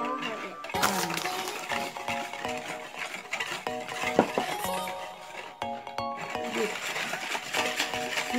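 Pancake batter being stirred by hand in a bowl, quick scraping and clinking strokes close by, irregular and busy, with other kitchen clatter and voices in the background.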